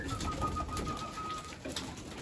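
Several pigeons coo softly in a loft as they feed, low murmuring calls under steady background noise, with a thin whistle running through.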